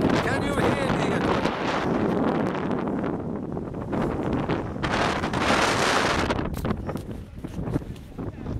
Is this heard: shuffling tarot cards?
no